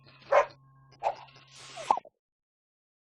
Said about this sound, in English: We always thought Elderflower the cow was barking.